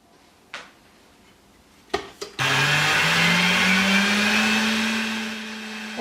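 A kitchen stand mixer with a wire whisk: a couple of clicks and knocks, then the motor starts and runs loud and steady, its whine rising slowly in pitch as it speeds up.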